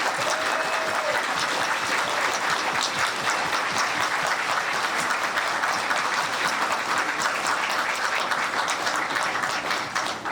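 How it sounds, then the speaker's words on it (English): A large audience at a festival closing ceremony applauds, dense and sustained clapping that holds steady throughout without anyone speaking over it. "Give them a big round of applause."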